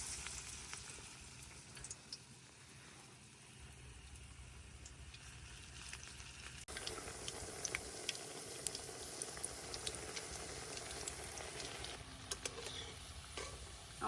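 Crisp potato fritters fry in hot oil, a low, even sizzle heard up close that grows slightly busier partway through, with occasional small pops and clicks.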